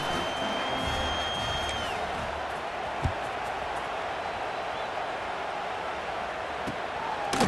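Broad stadium crowd murmur in College Football 26, a steady wash of many voices with faint scattered whoops and a brief thump, ongoing throughout.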